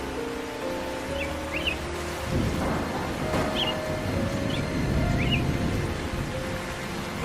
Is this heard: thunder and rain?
yes